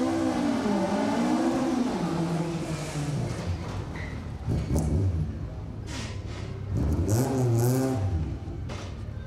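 Ford Fiesta Rally 2 rally car on an asphalt rally stage, engine rising and falling through gear changes, heard loud from inside the car with sharp clatters and bangs over the engine note.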